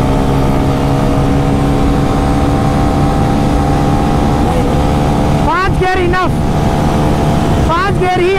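A Bajaj Pulsar N250 motorcycle racing a Honda CB300F: a loud, steady engine roar fills the whole clip, with a couple of sharp rising revs near the end as a bike accelerates and pulls ahead. Wind rush sits under the engine.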